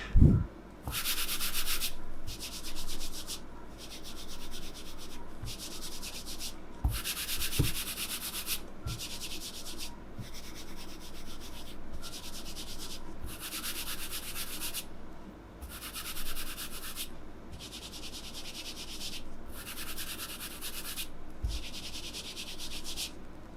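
A mouse slides across a Thermaltake Level 20 RGB extended fabric mousepad in repeated scratchy strokes, bursts of rough friction noise coming in quick sweeps with short pauses between them, close and clear.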